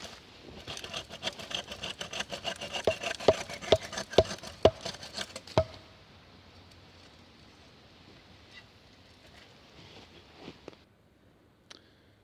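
A hand saw cuts through wood outdoors at a bivouac, with a quick series of sharp rasping strokes for several seconds, then a quieter scraping stretch and a final faint knock.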